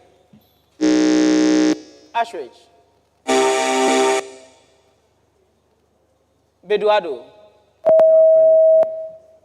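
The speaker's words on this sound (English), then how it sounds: "let's test our buzzers." Contestants at a junior science and maths quiz national championship quarter-final test their buzzers: two loud, long, rasping buzzes, then a steady pure electronic tone. Short spoken names come between them.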